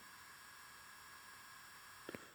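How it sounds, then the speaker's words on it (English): A Soundtraxx Soundcar decoder speaker inside an Athearn model boxcar gives off a faint, steady hiss of white noise, very quiet and constant, with a brief soft pop near the end. "It's not like static, it's just like white noise."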